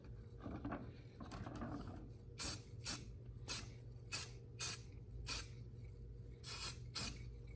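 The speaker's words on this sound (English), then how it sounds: "you got to get with these spray cans, you got to hit it from every angle" Short hissing bursts of a silver spray paint can on a miniature figure, about ten quick sprays in an irregular rhythm, close and fairly loud over a low background hum.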